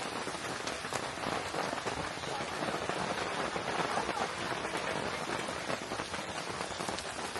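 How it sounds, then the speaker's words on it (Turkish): Dense, heavy rain drums steadily on a camping tent, heard from inside, a constant loud patter with no pauses or voices. "Oo, bayağı güzel yağmur başladı."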